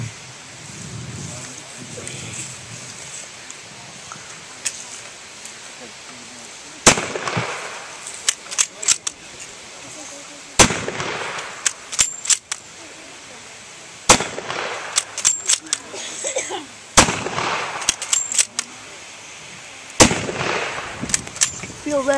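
A WWII German bolt-action rifle fires in a demonstration, sharp loud single shots spaced a few seconds apart, each followed by rattling bolt-cycling clicks, with a voice audible between shots.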